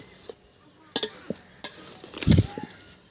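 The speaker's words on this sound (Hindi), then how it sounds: "डेगची दोस्तों हमने चूल्हे पे रख दिए और उसमें दोस्तों थोड़ी सी हमने घी डाले और घी में हम पहले उसे अच्छे से भुनेंगे" Grated carrots being stirred and roasted in ghee in a cooking pot on a stove for carrot halwa: soft sizzling with intermittent sharp clinks and scrapes of a metal spoon against the pot.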